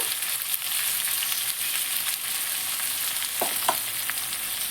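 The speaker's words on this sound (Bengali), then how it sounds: "মশলাটা ভালো করে কষিয়ে নেব" Salt, chili, cumin and turmeric powders fry in a pan for a jackfruit and egg curry, a close, steady hiss with occasional soft stirring scrapes and clicks.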